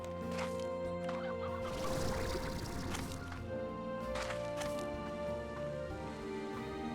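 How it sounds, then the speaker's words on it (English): Chickens in the video game Slime Rancher 2 clucking softly in short bursts beneath steady game music, with a squishy liquid noise in the middle. "Some chickens."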